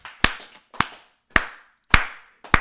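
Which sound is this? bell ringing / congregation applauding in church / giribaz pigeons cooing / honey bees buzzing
congregation applauding in church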